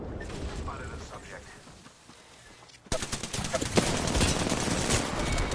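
Rapid automatic fire from an R-99 submachine gun in the video game Apex Legends bursts in loud and dense after a quieter opening, with continuous crackling shots through the second half.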